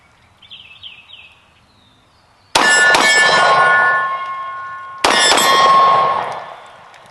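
Two pistol double taps strike a steel target, each pair a sharp bang and clang followed by a long metallic ring that slowly fades. The pairs are about two and a half seconds apart, with faint birdsong before the first.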